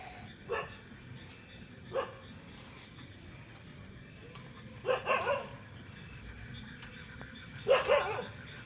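A dog barks in short separated bursts, single and double woofs spaced a few seconds apart, fairly distant against a quiet night background of chirping insects.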